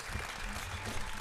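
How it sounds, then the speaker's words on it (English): A studio audience breaks into applause for a singer, songwriter and producer: a brief burst of dense, even clapping with faint crowd murmur underneath. "Get this man a big round of applause"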